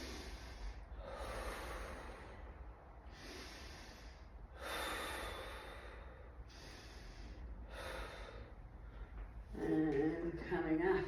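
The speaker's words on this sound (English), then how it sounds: "We're going to do 3 breaths through the mouth. And 3 breaths through the nose." Six slow, deep breaths, each a long breathy rush of air drawn in and pushed out, first three through the mouth and then three through the nose, with short pauses between and a voice starting at the end.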